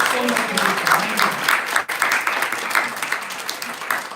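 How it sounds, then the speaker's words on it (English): Festival audience applauding steadily throughout, a dense broadband wash of clapping with a voice or two faintly mixed in beneath it. "Let us give a big round of applause to Maya."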